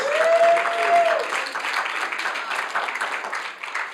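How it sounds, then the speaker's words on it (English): A Sunday church congregation breaks into warm, sustained applause, a dense wash of many hands clapping that fills the room, with a brief voice and tone heard at the start. "Give yourselves a big round of applause."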